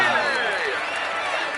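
A roadside crowd at the Tour de France applauds and cheers a rider, a dense, steady wash of clapping that is fairly loud and continuous throughout.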